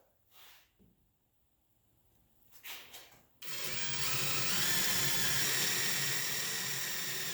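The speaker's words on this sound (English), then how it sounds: "I'm going to attempt to cut it with my jigsaw" A jigsaw cuts a slot in wood. A few quiet handling knocks come first, then the saw starts abruptly and runs loud and steady, buzzing without a break to the end.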